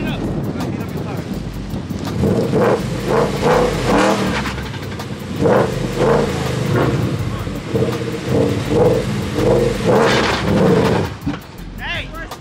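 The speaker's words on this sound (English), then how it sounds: "Heat up your tires." A car revs repeatedly to heat up its tires before a street race, with loud, close engine surges and wind buffeting while people talk over it.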